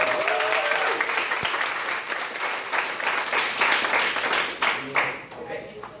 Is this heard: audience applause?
yes